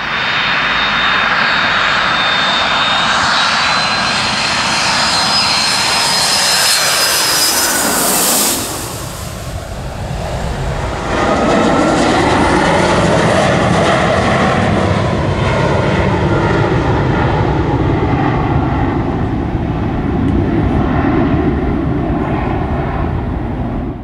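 A Royal New Zealand Air Force Boeing 757 jet roars loudly and sweeps past overhead, its pitch dropping sharply as it goes by, followed by a sustained rumbling engine wash as it moves away.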